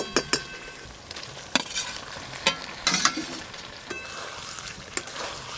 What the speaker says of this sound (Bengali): মশলার সঙ্গে সব চিকেনগুলো খুব ভালো করে মিশিয়ে নেব একসঙ্গে